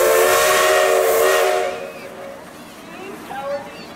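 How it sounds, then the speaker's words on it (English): A 1960 Case 50-horsepower steam engine at a Nebraska town picnic blows a loud, steady steam whistle with strong hiss, which fades after about a second and a half into a lower rumble while a voice speaks over it. "1960 50-horse HP or horsepower case steam engine."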